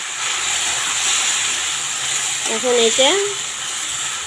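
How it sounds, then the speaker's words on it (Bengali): Meat goes into a pan of fried onions and sizzles in a steady, bright hiss throughout, close and loud, while a voice speaks briefly near the middle. "তারপর এখানে মাংসটা ছেড়ে দেব।"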